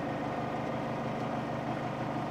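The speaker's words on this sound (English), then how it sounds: "We'll speed it up to full speed." A scroll saw runs at full speed, giving a steady dense mechanical whir with a rapid buzzing rhythm and no pauses.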